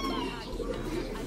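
Pigeons in cages after a snake got into the coop, cooing in a close, busy low murmur with overlapping calls and a voice speaking over them.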